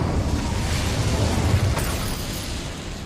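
The Incendio fire spell is cast in the Hogwarts Legacy video game with a dense, rumbling burst of flame that roars steadily and then fades slightly.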